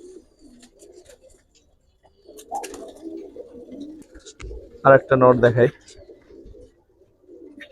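Giribaz pigeon chicks at a loft coo in a short burst of low, throaty calls, with people talking nearby before and around it.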